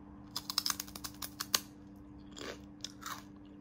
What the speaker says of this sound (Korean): 얼마나 바삭한지 제가 한번 먹어보도록 하겠습니다.